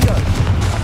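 A Confringo spell explosion in Hogwarts Legacy, a short, loud, dense burst with a booming low end, close and filling the whole moment, with no talk.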